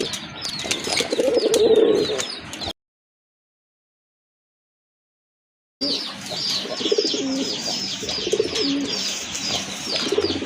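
Domestic pigeons coo at a market, with repeated soft, throaty calls and some chirping, fairly close, alone without talk; the sound cuts out briefly in the middle and resumes.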